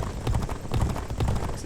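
Racehorse hooves galloping on a track in the G1 Jockey 4 racing game, a steady rhythmic drumming of hoofbeats running continuously at moderate loudness.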